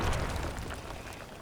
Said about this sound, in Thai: โอ้ยลิงระเบิด ลิงระเบิดได้